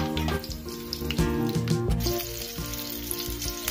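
Chilies hit half a tablespoon of hot cooking oil in a pan for chicken curry, a loud, bright sizzle over a few seconds with tonal music playing underneath.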